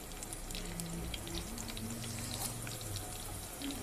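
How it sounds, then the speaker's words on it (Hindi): Onions fry in hot oil in a kadai for Hyderabadi talawa gosht, a faint, steady crackling sizzle with scattered pops, low in level and without talk. "प्याज डाल दूंगी"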